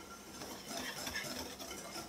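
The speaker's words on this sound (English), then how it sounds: "Now I'm going to whisk those together just to give it a head start, since we're not using a mixer" Flour, baking soda and salt being whisked together by hand in a bowl for a chocolate cake, a steady close scraping and rattling of the whisk that keeps going without a break.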